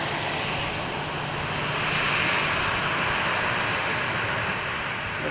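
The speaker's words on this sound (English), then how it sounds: "an Austrian Airlines 737, very loud." An Austrian Airlines Boeing 737 jet passing at Boston Logan Airport: a loud, steady, broadband engine roar that swells slightly in the middle, close by, with no talking.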